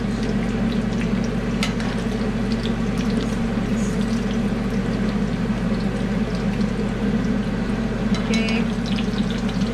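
A tortilla frying in hot oil for green sauce enchiladas gives a steady, dense sizzle throughout with a constant low hum beneath; a voice speaks briefly.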